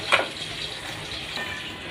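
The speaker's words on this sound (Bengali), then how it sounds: "এই তো আমার মাছটা ভাজা হয়ে গিয়েছে," Shrimp fry in oil in a pan, giving a brief, steady sizzle with a few soft crackles close by.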